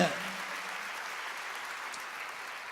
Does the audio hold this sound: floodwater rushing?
no